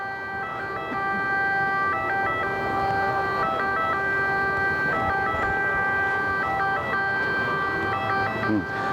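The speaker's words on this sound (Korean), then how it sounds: "이 뒤쪽이 그 병원이 있어가지고 구급차가 굉장히 많이 다니네요." Ambulance siren wailing in repeated two-tone cycles near a hospital in Rome, loud and close throughout with traffic noise underneath.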